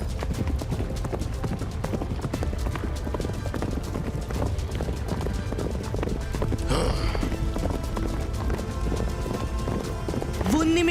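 Several horses run with steady clip-clopping hooves in a fantasy scene with a centaur and a magician, the hoofbeats dense and continuous against a busy background of music and voices.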